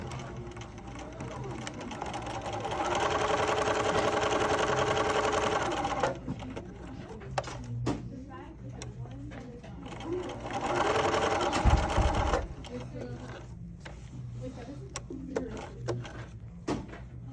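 Sewing machine stitching a seam sample along the edge of the presser foot, two steady whirring runs with a pause of light handling clicks between them, close and moderately loud.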